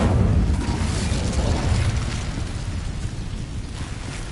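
The Incendio fire spell in Hogwarts Legacy goes off with a loud, rumbling whoosh of flame. It starts as a heavy burst and then fades over a few seconds.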